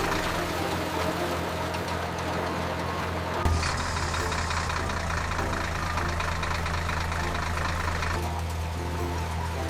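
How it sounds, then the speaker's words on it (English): A cartoon tractor pulling a plow across a field, its plow dropping to turn the soil, gives a continuous rumbling engine drone with a low steady hum and a brief jolt partway through. "The plow drops, turning over the soil."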